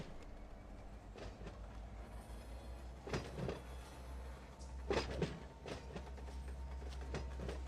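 Train locomotive running in the Run 8 train simulator, with a steady low engine drone under rhythmic clicking and clanking of wheels and cars, with a few louder bumps, fairly faint and with no voices.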